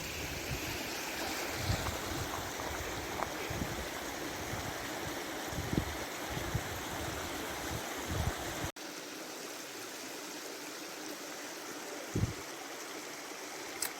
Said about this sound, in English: So this river is just a mountain stream from the mountains that is called Kamniška Bila